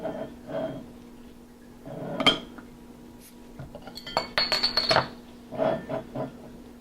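Dogfish Head 120 Minute IPA being opened and handled with a snifter glass: scattered clinks and taps of glass, a sharper clatter cluster near the middle, a steady faint hum underneath, close and moderately loud.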